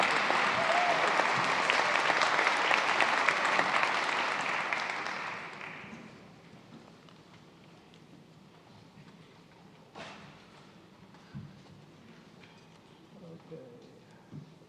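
An audience at a concert band performance applauds loudly, then the clapping fades away after about six seconds, leaving a quiet room with a few faint knocks and shuffles.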